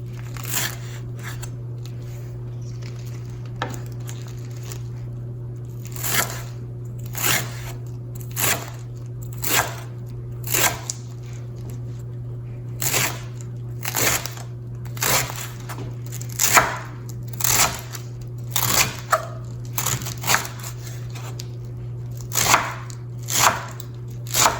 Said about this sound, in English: Roll it up nice and tight, and then we're gonna make really thin slices